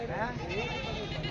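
A goat at a busy livestock market lets out a short, wavering bleat, fairly close, over a background of people talking.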